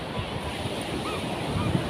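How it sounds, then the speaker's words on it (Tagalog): Ocean surf washing onto Sabang beach in Baler, Aurora, a steady close rush of breaking waves with wind noise across the microphone and no talking. "So yung alon dito, ganito po yun,"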